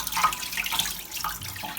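Tap water runs and splashes in a sink as a catfish is rinsed under it, a steady close wash with uneven surges, no voices.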